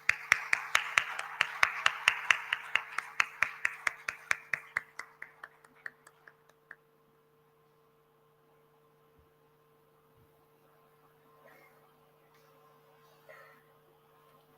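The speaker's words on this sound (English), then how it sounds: "Could we have another round of applause for that amazing plenary session?" Conference audience at a social business day plenary session claps in a dense burst that thins into scattered claps and stops after about seven seconds, leaving a quiet room with a steady electrical hum.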